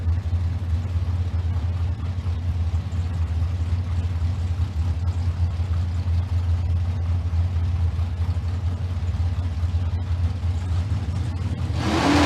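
Drag race cars at a dragstrip, a green Camaro and a 1999 Firebird, produce a loud, steady engine roar that holds throughout, with a sharper swell near the end.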